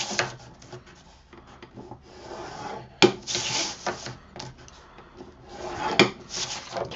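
A scoring tool is drawn along a 10 by 10 sheet of chipboard in a few separate close strokes, giving dry rasping rubs with brief pauses between them.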